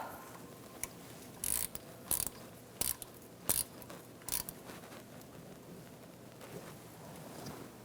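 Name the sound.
ratchet tightening Ford Focus output speed sensor bolt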